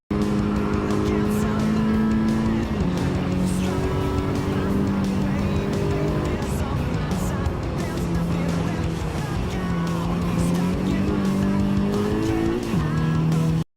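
A racing car from the video game Gran Turismo 7 drives hard, its engine note steady and loud with repeated rising and falling gear changes, heard alone throughout.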